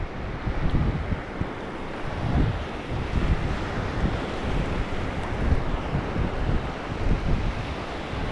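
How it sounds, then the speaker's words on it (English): Steady east wind buffets the microphone at an ocean shoreline during flounder fishing, a constant loud roar mixed with breaking surf that never lets up. "the way the wind's blowing straight out of the east"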